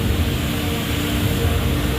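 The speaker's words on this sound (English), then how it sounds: "It's a noisy street cleaner." Noisy street-cleaning vehicle working along a city street, a steady broadband roar and rumble with heavy low-end and hiss, constant and close throughout with no talking.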